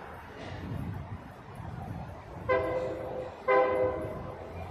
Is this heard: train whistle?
yes